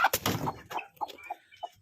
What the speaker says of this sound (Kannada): ಅಗ್ರೆಸಿವ್ ಕೋಳಿಗಳು ಇವು, ಬೆತ್ತಲೆಕತ್ತು ಕೋಳಿಗಳು.